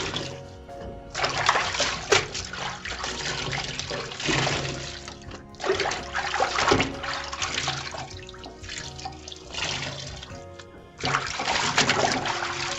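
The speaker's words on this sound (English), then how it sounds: "So as you rinse, you squeeze but not too stretchy." Clothes being rinsed and squeezed by hand in water, with repeated bursts of sloshing, splashing and dripping separated by quieter stretches of trickling water, close and fairly loud.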